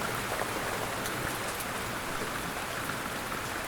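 Steady rain falls in a soft, even hiss with faint scattered drops, continuous and calm, with no voices.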